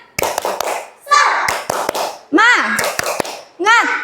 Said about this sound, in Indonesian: Oke, tepuk semangat dulu deh. Tepuk semangat.